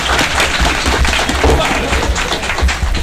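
At an all-Japan manufacturing spinning-top battle tournament in Shibuya, an audience gives a competing team loud, close applause. The clapping is dense and continuous, with thumping knocks mixed in and possible voices underneath.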